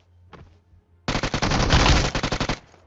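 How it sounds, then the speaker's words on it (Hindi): Gunfire in BGMI (Battlegrounds Mobile India) from a rooftop: a brief shot, then a loud rapid automatic burst of about fifteen rounds lasting roughly a second and a half. "एक बंदे का फायरिंग आया था इस वाली छत से"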